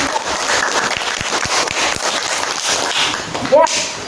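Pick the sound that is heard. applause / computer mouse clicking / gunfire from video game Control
applause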